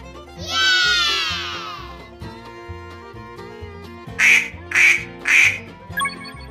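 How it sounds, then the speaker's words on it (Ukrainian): Loud, nasal duck quacks, three in quick succession, over a bouncy musical backing, with a high squeaky cartoonish call at the start. "Качка."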